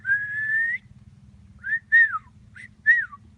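A pet budgie whistles clearly alone: one long steady whistled note, then three shorter rising-and-falling chirpy whistles, close and bright over a faint low background hum.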